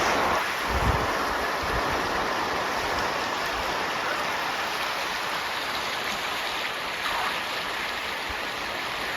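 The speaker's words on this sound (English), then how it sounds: "This water runs and will fall down the waterfalls." Steady, broadband rushing water of the Rupin River in the Himalayas fills the scene continuously, loud and unbroken throughout.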